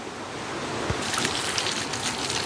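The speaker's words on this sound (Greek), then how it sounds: "αναβλύζει το καταγάργαρο νερό της Γκούρας έξω από το μαγαζί" Spring water of Gkoura gushes from a small fountain outside a closed shop in Anthiro, a steady broadband rush of flowing water heard up close with no voices.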